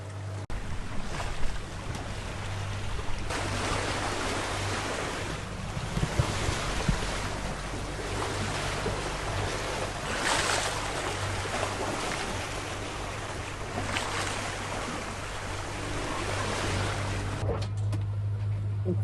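A sailboat motoring on calm sea off France, its steady low engine drone running beneath continuous wash of waves and wind buffeting the microphone, with no one talking.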